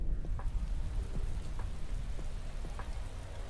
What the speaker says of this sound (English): And it's fucking raining.